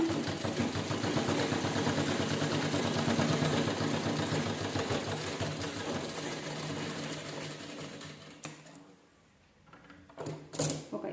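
A sewing machine runs steadily, stitching a fabric key holder in a full round seam, its motor whirring loud and continuous for about eight seconds before stopping, followed by brief handling clicks.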